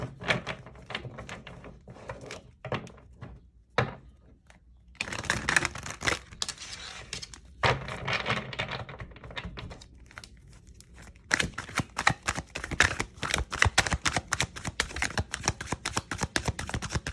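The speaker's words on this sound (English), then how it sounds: "Let me give it a good shuffle." Tarot cards being shuffled by hand, with irregular bursts of riffling, flicking and papery slaps that grow busier and denser toward the end, close and fairly quiet.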